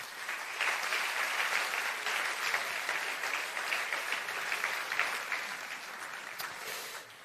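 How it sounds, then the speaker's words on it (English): A conference audience in Central and Southeastern Europe claps in a sustained round of applause, lively and even for about seven seconds before easing off. "I think that deserves another round of applause."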